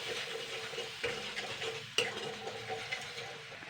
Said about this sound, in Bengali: এবার একটু হালকা নাড়াচাড়া করে দেবো।